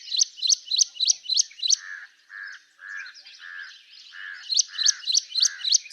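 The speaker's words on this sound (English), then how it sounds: "Now let's listen to this ashy prinia." An ashy prinia calls relentlessly from a perch atop grass or reeds at dawn, a loud run of sharp repeated chirps alternating with lower buzzy notes in a quick regular rhythm, clear and close.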